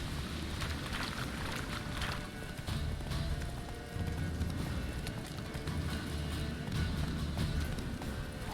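Roach the horse gallops across terrain in the video game The Witcher 3, with a steady, rapid drumming of hoofbeats under ambient wind, continuous and moderately close.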